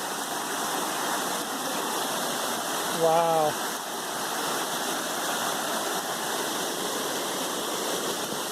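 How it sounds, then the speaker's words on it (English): A waterfall beside the Appalachian Trail roars in a constant, full broadband rush close by, with a single brief spoken exclamation partway through. "So look at this waterfall."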